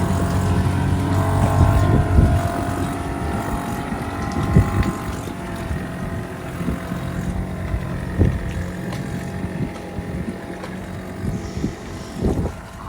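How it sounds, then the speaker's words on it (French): A small motorboat engine in Saint Lucia hums steadily nearby, with wind buffeting the microphone and occasional thumps throughout. "son petit bateau il marche, son moteur marche"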